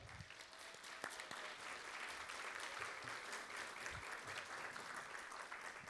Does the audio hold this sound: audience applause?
yes